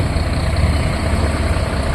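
A vehicle engine idling close by, a steady loud low rumble with an even throb that holds unchanged throughout, alone without speech.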